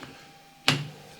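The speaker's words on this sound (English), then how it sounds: "I'm knocking these in a little bit like this." One sharp, close knock rings out against quiet workshop background as parts are tapped into a new lathe drawbar, with a brief metallic decay after the hit.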